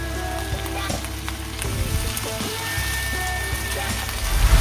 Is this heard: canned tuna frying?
yes